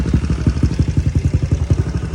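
Yamaha NMAX scooter engine running up close in rapid, pulsing bursts, loud and throbbing with a clattery, popping exhaust rhythm.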